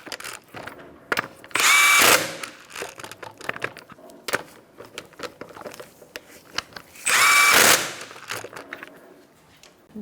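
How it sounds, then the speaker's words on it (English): On a 2014-2019 Kia Soul 1.6L, a power tool tightens the wheel lug nuts in two loud, sharp bursts of rattling whir, separated by quieter clicks and handling noises. "You're going to tighten up the lug nuts in a star-like pattern."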